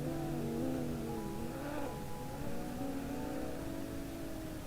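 Car engine revving in a sim drift racing game, with tonal engine notes rising and falling as the throttle is worked, steady and moderately loud with no talk.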